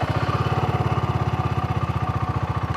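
A BSA Gold Star 650 motorcycle engine idles close by, a steady, even low thump of firing pulses with a mechanical clatter on top, no voices.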